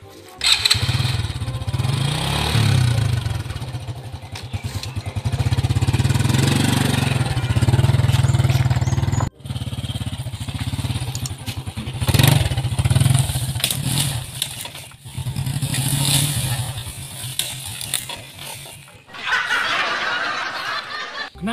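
A motorcycle engine revs and roars continuously up close, loud and low, with brief drops in the throttle and a sudden cut near the middle.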